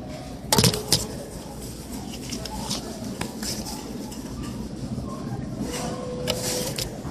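Arcade claw machine whirring and clunking as it runs after a dollar goes in, a sharp knock near the start followed by a steady mechanical hum and faint rattles amid noisy arcade background.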